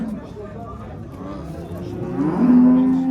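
Cow mooing at a livestock market, a single drawn-out low moo swelling near the end, close and loud over a murmur of background voices and crowd noise.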